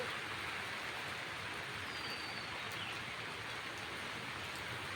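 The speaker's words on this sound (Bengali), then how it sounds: "আজকে মনে হয় বৃষ্টি থামবে না, সারাদিনই হবে।" Steady rain falls on a grey morning in what seems a day-long downpour, a dense continuous hiss of drops on surfaces with no gaps or voices, even and unbroken throughout.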